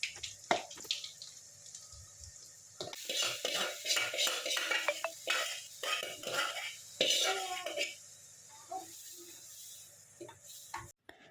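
Garlic and mustard seeds tempered with onion-garlic masala and green chutney in a pan at close range: a spoon stirs and clatters against metal over a light sizzle, with short sharp knocks scattered through.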